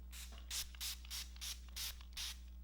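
A Chantecaille rose water facial mist bottle sprays six times in a steady rhythm, each close, soft hissing spritz lasting a fraction of a second over a quiet low hum.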